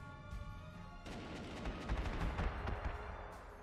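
A unit in Panzer Corps 2 opens fire, sending a cluster of sharp gunshots and heavier booming blasts rolling together over about three seconds, fairly faint overall.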